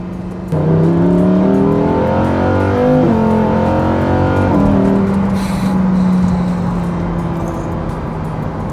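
A Lamborghini Huracan EVO V10 engine in Strada mode, exhaust quiet, runs smoothly, rising in pitch through several gear changes, then settling into a steady cruising drone.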